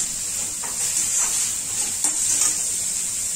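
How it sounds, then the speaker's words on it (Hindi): Garlic and onion fry in a pan with salt, giving a steady bright sizzle and hiss with a few soft stirring scrapes, close and continuous. "अब बस गार्लिक प्याज को अच्छे से भूनूंगी।"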